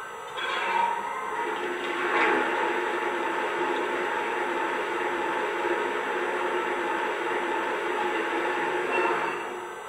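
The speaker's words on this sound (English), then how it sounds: "Here's the sound of water being added to the tender." Simulated water filling the tender of a Lionel Legacy Milwaukee Road S3 Northern #261 model locomotive, a continuous rushing hiss that holds steady for about ten seconds, close and alone.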